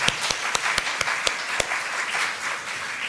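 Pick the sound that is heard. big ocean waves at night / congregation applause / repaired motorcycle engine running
congregation applause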